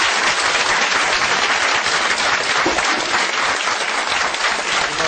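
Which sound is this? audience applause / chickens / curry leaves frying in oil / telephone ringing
audience applause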